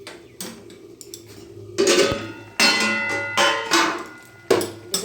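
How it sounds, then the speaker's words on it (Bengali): Metal cooking pot lid lifted off a pan of fish in mustard-poppy seed sauce, a few sharp clanks and scrapes of metal on metal, close and loud, no talk. "তো দেখো এবার আমি ঢাকাটা খুলছি।"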